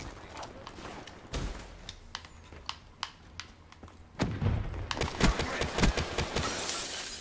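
MX Garand rifle shots in Black Ops 3 multiplayer, several sharp separate cracks spaced through the stretch amid game noise, with a louder cluster of impacts and crashes toward the end.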